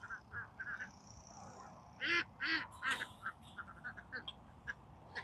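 Ducks and geese call on a farm during evening chores. A steady run of quiet quacks is broken by a few louder, harsher honks, all at low overall volume with no talking.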